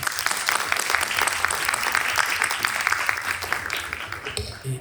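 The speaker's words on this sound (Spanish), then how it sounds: "Un aplauso, por favor." An audience at a book presentation at a book fair applauds warmly, with dense, sustained clapping for several seconds that tapers off at the end.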